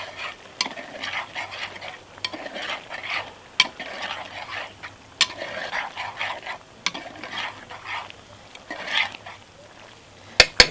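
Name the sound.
stirring Thai beef Panang curry with fish sauce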